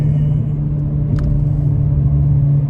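A low Ford ST engine rumbles steadily nearby, a deep continuous drone with a brief higher rattle midway.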